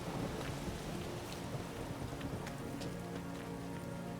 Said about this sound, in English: I love the rain effects